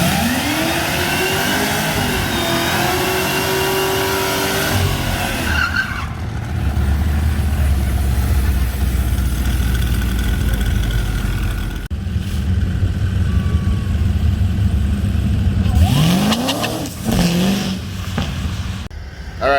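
Drag race car launching off the line at a test-and-tune event, with a loud engine roar and revving, then wheel hop and skidding, close and sustained throughout.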